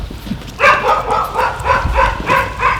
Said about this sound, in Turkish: Köpekler çok fena kocaman.